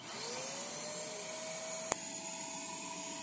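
A shop vac runs steadily, pulling a vacuum on a capped inlet port during a pressure test. It makes a loud, constant motor whine with a faint rising tone, broken by one sharp click partway through.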